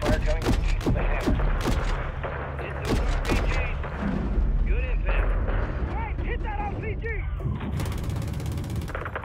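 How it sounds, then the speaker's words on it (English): Explosive RPG fire and gunshots ring out during a hangar assault in Call of Duty: Modern Warfare III, with repeated sharp blasts early on over a dense, steady din of battle noise and voices speaking over it. "RPG fire coming from the hangar."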